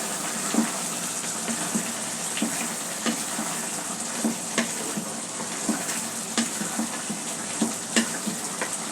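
Papaya fry is stirred in a sizzling pan, a soft steady frying hiss with light repeated scraping taps of the spoon at an uneven rhythm, close and fairly quiet.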